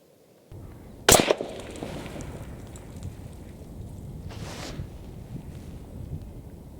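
A single sharp rifle shot fired through an Element Optics Helix 8x56 scope rings out loud and close outdoors, followed by steady wind noise buffeting the microphone and a faint later rustle.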